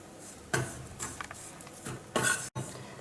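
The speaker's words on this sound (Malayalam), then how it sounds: "നല്ല മണം വന്ന് നല്ലൊരു ബ്രൗൺ കളർ ആവുന്ന വരയ്ക്കും നമുക്കിതിനെ ഒന്ന് വഴറ്റിയെടുക്കാം" A spatula scrapes and clinks against a pan while ingredients are sautéed in a teaspoon of coconut oil, coming as a few irregular close-up bursts of stirring with only a faint sizzle beneath.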